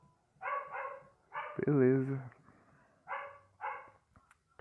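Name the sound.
dog barking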